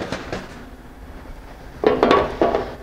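A metal pan of spiced ingredients for a tomato relish is set down on a grill with a few close clanks and scrapes of metal on the grate, after a quiet stretch.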